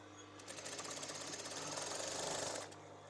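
A sewing machine stitches the end of a folded fabric edge on a remade top, running in a fast, steady mechanical rattle for about two seconds before stopping, close and alone.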